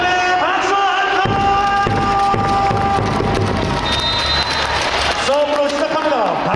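Crowd at an indoor volleyball match clapping in support of Hyundai E&C, loud sustained applause from a packed arena with tonal cheering and noisemakers ringing over it and an announcer's voice cutting through.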